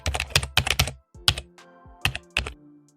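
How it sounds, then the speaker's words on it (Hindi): Keyboard typing sound effect used for a text typing animation: quick bursts of crisp key clicks in short clusters, with pauses between groups and a final few isolated taps, close and clear with no talking. "इसमें साउंड भी लाइक कोई कीवर्ड टाइप कर रहा हो"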